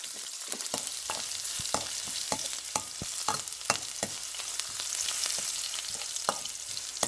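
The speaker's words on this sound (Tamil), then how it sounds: "எண்ணெய் கொதிச்சிட்டுது நாங்கள் கடுகு போட போகிறோம் பெருஞ்சீரகம் உள்ளி" Mustard seeds, fennel and garlic crackle in hot oil, a steady close sizzle broken by frequent sharp pops and spits throughout, with no talking.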